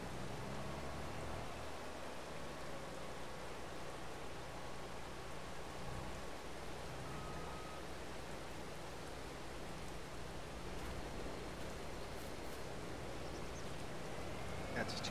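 Rain falls in Farming Simulator 22 as a steady, dense hiss that holds evenly for the whole stretch with no breaks.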